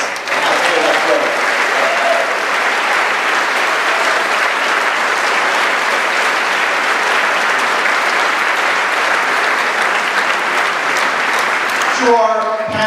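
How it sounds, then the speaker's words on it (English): A high school graduation audience claps steadily for about twelve seconds, a dense, loud and sustained wash of applause, before a voice begins speaking at the very end. "Please join me in applauding their efforts and how they have grown."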